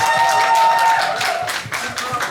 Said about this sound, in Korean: 뜨거운 박수로 맞이하도록 하겠습니다